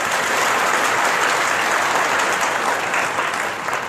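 An audience at a spiritual talk claps continuously, dense and fairly loud applause holding steady for about four seconds before easing slightly at the end.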